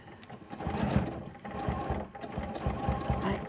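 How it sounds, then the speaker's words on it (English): A sewing machine stitches slowly through a pieced quilt block for a pillow, a steady run of close, moderately loud mechanical pulses with a slight hitch midway. "I normally don't sew this slow,"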